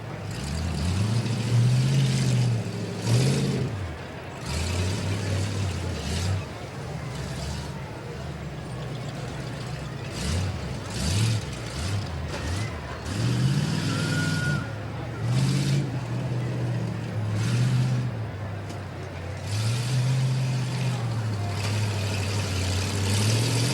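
A rough truck engine revs and roars while racing around a county fair course, rising and falling repeatedly in loud, gritty surges at medium distance, with crowd noise and a commentator's voice underneath.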